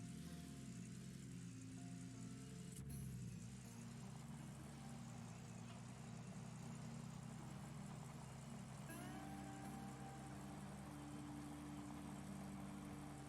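Truck engine in the Gold Rush video game, droning steadily at a low to mid pitch while driving, with a brief shift in tone partway through.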